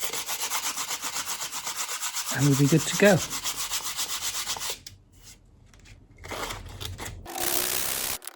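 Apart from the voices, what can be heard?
sanding mother of pearl inlay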